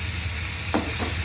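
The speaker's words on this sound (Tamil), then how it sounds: "இந்த தக்காளியும் போட்டுக்கலாம். அதோட வதங்குறோம்." Tomatoes sautéing in a pan for chutney give a steady, close, loud sizzle with a couple of brief stirring scrapes partway through.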